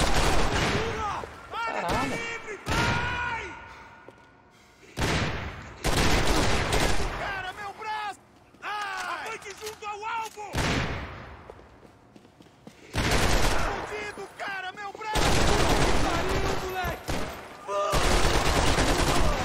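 Bursts of rapid gunfire crackle in short volleys in the video game Max Payne 3, separated by brief pauses, with voices talking faintly between shots.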